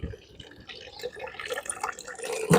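Water runs from an outdoor tap in front of a house in a steady, close splashing stream, with a louder gush near the end and faint voices in the background.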